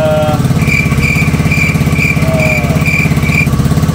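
A Yamaha Mio Soul i 115 scooter engine runs steadily at idle after an ECU replacement, a loud, even, close-up putter with a faint high whine over it, alone with no talk.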